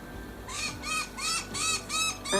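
A crow near a backyard trampoline gives a series of six harsh, evenly spaced caws, fairly close and loud, with no talking over them.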